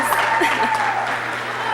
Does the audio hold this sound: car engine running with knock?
no